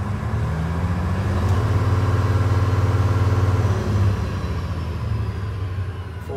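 A 2015 Kenworth W900L glider daycab truck engine idling near operating temperature, a steady, loud low diesel rumble running evenly with no talk.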